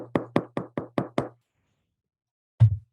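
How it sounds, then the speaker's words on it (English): Six sharp knocks on a door in quick, even succession, close and clear, then a short silence and one heavier thud near the end. "Does someone want to answer that?"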